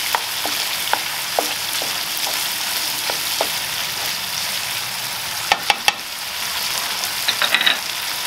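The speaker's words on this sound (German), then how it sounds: "So, der Käse wird angebraten, bis er etwas weich ist. Und dann geben wir noch den gehackten Knoblauch hinzu," Feta cheese and chopped garlic fry in a pan with a continuous close sizzle, punctuated by sharp clicks and scrapes of stirring against the pan, no voices present.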